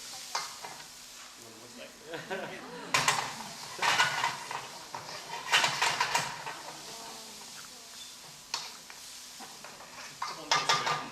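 Pancit cooking in a pan with bursts of stirring, scraping and light sizzling, busy clatter of utensil against pan coming and going, a voice speaking briefly over it.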